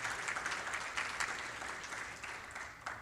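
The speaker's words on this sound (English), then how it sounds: "We should really give him applause." An audience at a Florida conference claps steadily with dense, even applause and a few louder bursts throughout.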